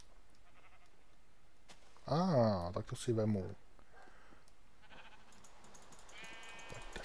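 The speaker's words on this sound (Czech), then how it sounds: "Hele, ovce." A sheep bleats in the Minecraft video game, two loud, close, wavering bleats in a row over quiet game ambience and rain, with someone speaking briefly.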